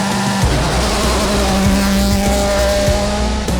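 Rally car engine droning steadily at high revs through a night stage in Michigan, with gear-shift dips in pitch and tyre noise on loose surface, loud and close throughout.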